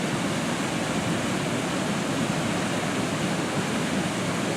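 Wren Falls, a large waterfall with a deep pool beneath it, sends up a steady, dense roar of falling water that stays loud and close throughout.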